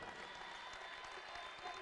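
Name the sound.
applause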